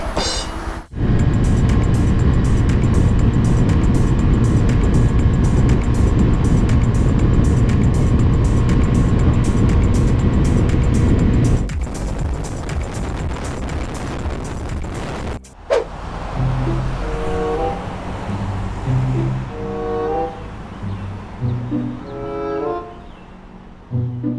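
A 2021 Honda Dream Super Cub motorcycle with a big-bore engine is ridden, giving a steady, loud engine drone for about fifteen seconds before it cuts to a different, patchier stretch of sound.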